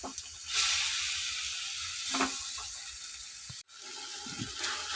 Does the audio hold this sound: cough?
no